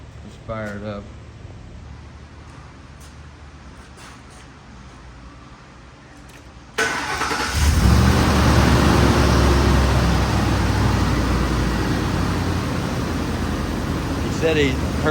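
A 2005 Ford Explorer with the 4.6L V8, just after an EGR replacement, cranks and catches partway through, then idles with a steady, fairly loud engine drone; quiet room tone and a brief voice come before the start.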